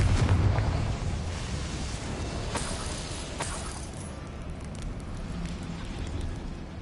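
A Confringo blasting spell detonates in the Hogwarts Legacy video game: a loud rumbling burst at the start that rolls into a long, fading roar with crackling debris.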